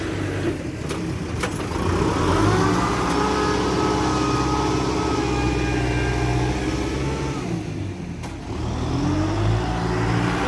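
A Kubota M6040 SU tractor engine drones loud and close in a steady rumble, easing off briefly toward the end before picking up again, with no speech.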